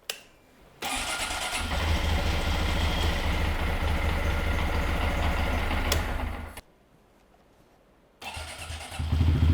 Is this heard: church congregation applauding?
no